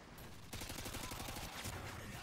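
Rapid automatic gunfire in Call of Duty: Modern Warfare 2, dense continuous bursts that crowd the whole mix after a short quieter lead-in, sustained without letup.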